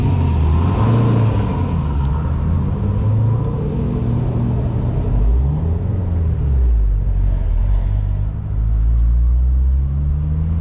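A Chevrolet Corvette C7 Z06 with a manual clutch pulls away, its engine rumbling loudly and rising and falling in pitch through the gears, heard from inside the car.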